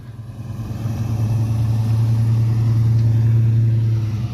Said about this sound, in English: let's check out the Camaro driving by